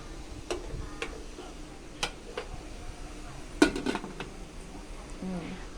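Dishes and pots being washed up in a home kitchen while chicken hor mok steams, sparse clinks and clatters of metal and crockery, one sharper knock, faint background hiss with a voice talking now and then.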